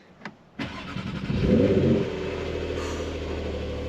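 A Porsche 911 Carrera T with a manual gearbox starts up: a brief starter whir, then the engine catches with a loud rising rev and settles into a steady, throaty idle, heard from close by.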